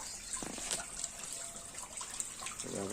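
A turned-on tap runs continuously in a village yard, a faint steady hiss and trickle of water with a few light knocks, no voices.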